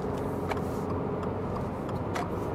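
A 2024 Subaru Impreza Sport with its 2-liter engine drives along a road, a steady broadband hum of engine and road noise throughout, with faint clicks and no voices.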